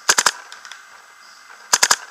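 An airsoft replica gun fires two quick bursts of three sharp snapping shots each, close and loud, with fainter ticks between the bursts.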